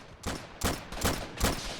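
Gunfire in the Army Men: Plastic Wars video game: loud, dense bursts of rapid shots arrive in four waves under a constant battle roar, with no talk.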